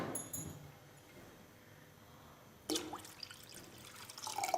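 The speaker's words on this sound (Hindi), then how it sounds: "इसमें मैं थोड़ा सा पानी और ऐड करूँगी" Water trickles and drips into thick kadhi batter in a cooking pot, a soft pour building after a quiet stretch, near and alone without talk.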